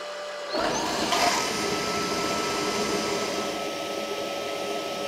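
A Tineco Carpet One Spot carpet cleaner kicks into its automatic self-cleaning cycle after a short silence, giving a loud, steady motor whir with a brief gurgling surge near the start, running alone and unbroken.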